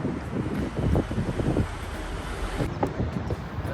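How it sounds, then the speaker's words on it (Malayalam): Steady wind blowing outdoors while walking, a continuous broadband rush with gusty buffeting on the microphone throughout, and no talking. "സമാധാനം, നല്ല കാറ്റ്."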